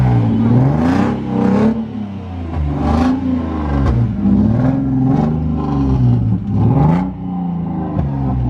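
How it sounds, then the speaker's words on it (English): Lexus IS200 engine revs repeatedly at a classic car meet at Crewe Heritage Centre, several rising and falling throttle blips in an irregular rhythm, close and loud with no talk over it. "You can hear something revving, a Lexus IS200."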